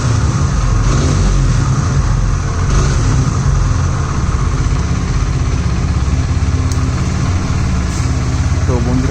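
A 2024 Hero Xtreme 160R motorcycle runs with a steady, loud exhaust note close by, holding a constant idle-like drone with little variation across the stretch.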